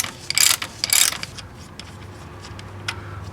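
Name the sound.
socket and ratchet loosening motor mount through bolt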